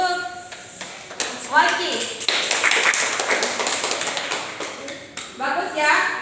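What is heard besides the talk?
classroom applause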